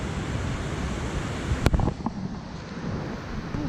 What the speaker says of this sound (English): Feel the waves, the ocean, the breath of Mother Earth.